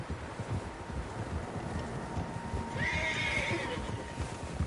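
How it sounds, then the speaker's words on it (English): Several horses whinny in the Red Dead Redemption 2 video game, one clear neigh standing out midway, over a steady outdoor wind bed and faint hoof clip-clop. "Horses, quite a few of them."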